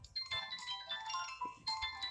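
A phone ringtone in a cat life-simulation video game, a bright electronic melody of repeated tonal phrases over about two seconds, clear and up front with no talk.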